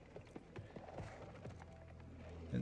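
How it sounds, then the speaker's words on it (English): Horses gallop in the Gears of War 4 video game, a faint rhythmic clopping of hooves with mechanical game ambience, low and steady throughout. "And those horses are creepy."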